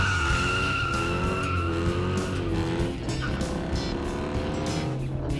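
A car performs a burnout on a road, tires squealing and skidding loudly over a droning, revving engine and exhaust. The sound is continuous and close for the whole stretch, with no voices.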